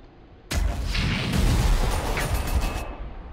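Units opening fire in the Armageddon strategy video game, a sudden loud burst of sustained gunfire and artillery that starts abruptly and rolls on for a few seconds before cutting off, with no talking.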